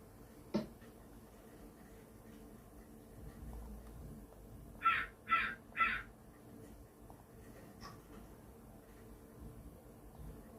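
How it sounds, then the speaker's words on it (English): Three crow caws come in quick succession from the background, fairly faint against a low steady hum, with a couple of isolated clicks before and after. "Sorry, you guys get to hear the crows in the background over here."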